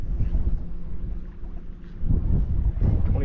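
A Newport NK180PRO electric kayak trolling motor runs at 25% power, a steady low hum and churn with wind buffeting and water wash throughout, fairly close and continuous.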